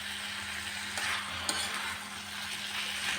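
Potato and pumpkin curry with fried bean seeds cooking in a pan, a soft steady sizzle with a couple of light stirring clicks, quiet and close, no talking.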